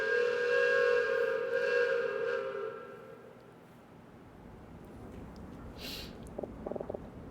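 A train in a video game sounds a loud, sustained whistle that fades after about three seconds, leaving a low rumble of rolling rail cars, followed by a few small knocks near the end.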